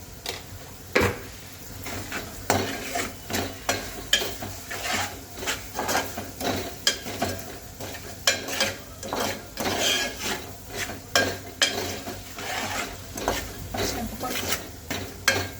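Spices with turmeric, salt and chili powder frying in a pan while a spoon stirs them, a low steady sizzle under regular scraping strokes and clinks against the metal, close and rhythmic, without speech.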